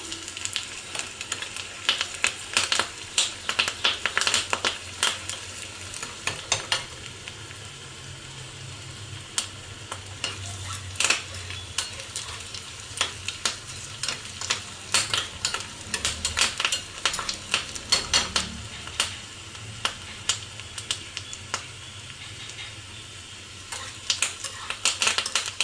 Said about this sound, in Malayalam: നല്ലപോലെ കളർ മാറി വരണം, അതുവരെ ഇളക്കി കൊടുക്കണം.